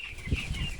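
Broiler hens in a farm coop give a soft flurry of wing flaps and low clucks, brief and close, with a faint high chirping tone running behind.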